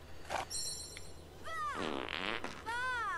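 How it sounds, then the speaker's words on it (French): A character in the video game Fable Anniversary lets out a string of comic farts, several wet sputtering bursts with squeaky rising and falling tones, fairly quiet and close, with no voices over them. "C'est pas vrai, il peut péter, lui."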